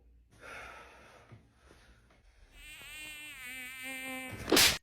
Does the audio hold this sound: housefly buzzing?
yes